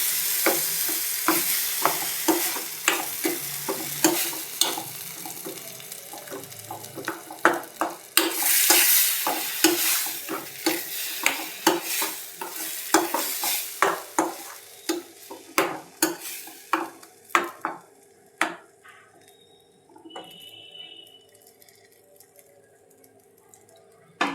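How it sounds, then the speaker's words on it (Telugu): Onion chili paste frying in oil on a low flame for a South Indian bottle gourd curry, with a steady sizzle and repeated rhythmic scraping strokes of stirring, fairly close, no talk. "ఉల్లికారం నూనెలో వేయించుకొని సిమ్లో పెట్టుకొని ఇలా ఉల్లికారం మొత్తం ఇలా వేయించుకుందాం"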